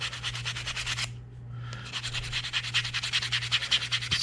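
A hand-carved wooden lipless crankbait lure is sanded with 120-grit sandpaper in quick rhythmic rubbing strokes, close and fairly loud, pausing briefly about a second in before resuming over a low steady hum.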